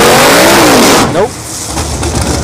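A drag race car at a test-and-tune session spins its tires at ShowTime Dragstrip: a loud engine roar with a rising and falling whine cuts off about a second in, leaving a lower rumble with crowd noise and voices.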